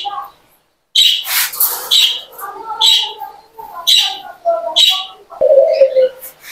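Lovebirds in a farm aviary give sharp, bright squawks and chirps in quick bursts, loud and close, with brief pauses between calls.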